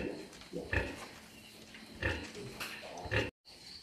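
Pigs on a farm raising sows, grunting in several short, rough bursts at close range, fairly quiet, with no talk over them.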